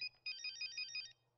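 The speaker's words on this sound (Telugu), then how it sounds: "ప్రియా నీ మొబైల్" A mobile phone ringtone plays a quick, bright, repeating electronic trill, fairly faint and heard alone.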